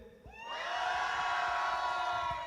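A concert audience erupts in loud cheering and shouting that swells quickly and holds at full volume.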